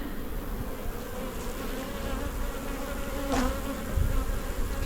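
Honey bees hum steadily from an open hive with a brood box packed full of bees, a dense close-up drone throughout with one brief louder buzz of a bee passing near.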